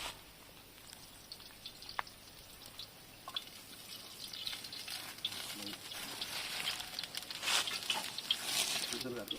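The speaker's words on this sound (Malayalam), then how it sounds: "ഇഞ്ചി വെളുത്തുള്ളി നമുക്ക് ഇട്ട് കൊടുക്കാം" Ginger and garlic frying in hot sunflower oil as the base of a chicken curry: a soft, scattered crackle and spit that starts quietly and grows busier and brighter toward the end.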